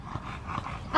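A dog gives short, muffled barking and whimpering sounds, close by, over steady low background noise, with no speech.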